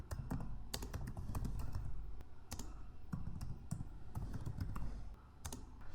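Fingers type a command on a computer keyboard at a steady pace, a close, continuous patter of light key clicks with a few sharper taps mixed in.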